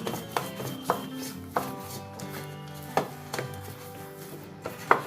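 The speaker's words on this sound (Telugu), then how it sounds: "ఇలా మొత్తం ఇలా పిసుక్కోవాలి" Wheat flour dough is kneaded by hand, giving soft rubbing and pressing sounds punctuated by irregular dull thumps and slaps, close and fairly quiet, with no speech.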